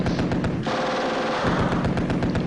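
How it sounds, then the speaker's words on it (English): Bren light machine gun fire in the wartime strategy game Steel Panthers WW2 comes as a loud, rapid string of sharp, evenly spaced shots with no pause across the whole stretch. "Bren LMGs are amazingly accurate towards center"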